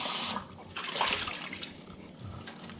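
Running water from a tap splashing over a washed cup being rinsed at a home sink, a close, steady, gurgling stream with shifting splashes, no talk.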